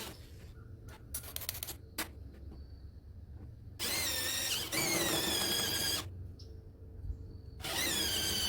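A power drill with a hole saw bit whines in two long loud bursts, cutting through wood while building a charcoal chimney, separated by quieter scraping and tapping.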